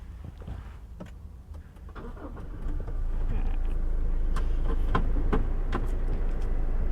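A Toyota Hilux Revo Double Cab 4x4 2.8 automatic pickup starts and its engine rises to a steady, close, low hum as it pulls away, with faint clicks and cabin noises and no talk.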